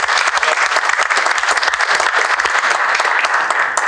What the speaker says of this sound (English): I would say a round of applause to you guys.